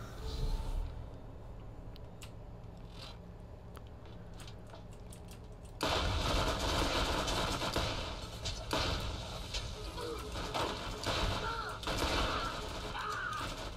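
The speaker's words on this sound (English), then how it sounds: "Try shoot over the wall with the shotgun." Shotgun blasts boom in a video game during a firefight, a run of loud, close reports with dense crackling bursts that rise sharply partway through and continue in overlapping volleys, with some voice under the noise.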